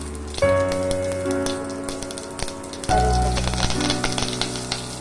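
Mustard seeds and dried red chillies crackle and sizzle in hot coconut oil, a steady close frying hiss with scattered pops and two louder surges as more goes into the pan.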